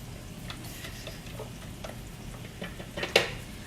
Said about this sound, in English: the butter and the olive oil is all blended together, and you can actually hear it start to sizzle